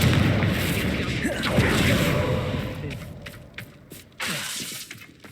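In the Hogwarts Legacy game, a Confringo spell blast bursts out as a loud, rumbling boom that fades over a few seconds, leaving scattered sharp clicks and thuds before a final jolt.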